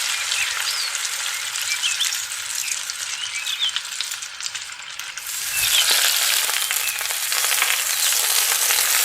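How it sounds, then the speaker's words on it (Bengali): Dried red chillies and mustard seeds sizzle in hot mustard oil in a kadai, a dense hissing crackle that swells louder midway and keeps going steadily, close up with no talking. "তেল গরম হয়ে গেছে, এখন 4টে শুকনো লঙ্কা আর সর্ষে ফোড়ন দিয়ে দেবো।"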